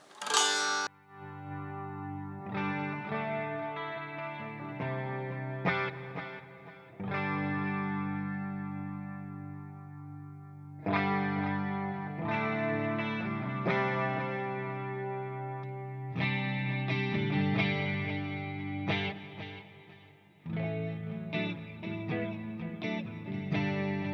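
An electric guitar through a Fractal preset with delay and reverb plays a series of ringing chords and phrases, each attack blooming into echoing, chorus-tinged sustain with gaps between passages.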